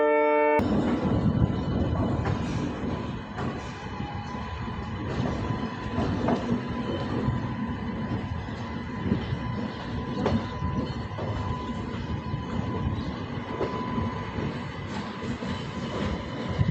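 Mysuru–Ajmer superfast express train running on tracks, a steady loud rumble with rhythmic clicking of wheels over rail joints throughout, heard close by without any talk.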